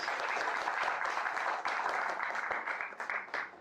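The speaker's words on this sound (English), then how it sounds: "Big round of applause, please." An audience gives a big round of applause at a talk. The clapping is dense and steady for the whole stretch, with no voices over it.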